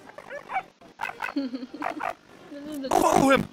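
A dog gives a few short barks and whimpers among people talking, ending in a louder excited burst.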